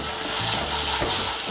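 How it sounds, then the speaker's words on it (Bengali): Spice masala with chopped medium tomato being sautéed in a pan for a vegetarian potol bora curry, a steady close sizzle with soft stirring scrapes throughout. "মিশিয়ে নিয়ে মশলাটাকে একটু ভালো করে কষিয়ে নেব"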